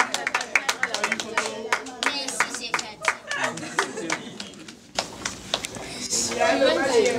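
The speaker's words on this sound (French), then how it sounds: "On peut applaudir s'il vous plaît" Audience clapping at a Congolese cinema awards ceremony: a quick scatter of claps, with one voice talking over them, gives way after a few seconds to a denser wash of crowd noise and chatter.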